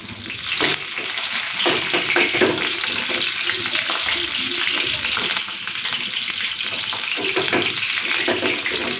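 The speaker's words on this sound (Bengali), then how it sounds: "এটাকে একটু লাল করে ভেজে দিই, তারপর তুলে নেব" Lote fish pakoras made with ground lentil batter fry steadily in hot oil, a continuous close sizzle and crackle with occasional stirring clinks and no talk.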